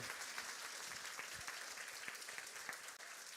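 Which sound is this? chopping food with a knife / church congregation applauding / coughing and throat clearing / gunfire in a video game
church congregation applauding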